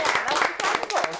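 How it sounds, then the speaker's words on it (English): A studio audience on a live TV chat show breaks into brief clapping, with voices talking over the applause. "Oh, I think we need to clap."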